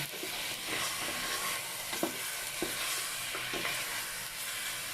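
Pork sautés with salt in a pan for sinigang, a dense steady sizzle with occasional soft stirring clicks, close and continuous with no talking.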